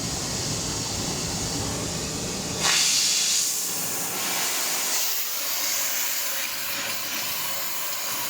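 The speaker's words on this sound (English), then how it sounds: "Now we're applying heat to the knuckle, not necessarily to the bearing." A torch heats a car's wheel bearing knuckle, starting with a loud rushing roar that suddenly changes to a steady, bright hiss of flame, continuous and close.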